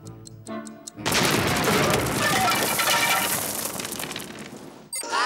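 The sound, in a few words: Israeli artillery shell falling and exploding, sound effect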